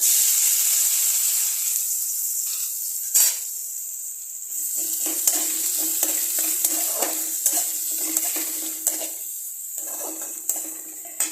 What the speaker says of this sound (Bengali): এখন এখানে দিয়ে দিব কুচানো পেঁয়াজ